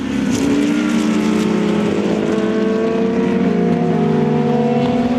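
Vintage race cars, including a McLaren, run together at VIR at the end of the first lap of an SVRA season-finale race, several engines droning and shifting pitch continuously and fairly loudly, with no voices.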